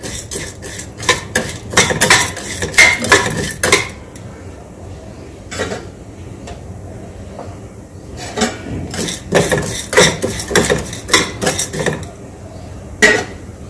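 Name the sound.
dal being stirred and roasted in a kadhai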